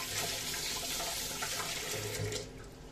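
Running tap water splashing steadily into a sink as a carrot is rinsed underneath, a close, continuous rush that thins out near the end.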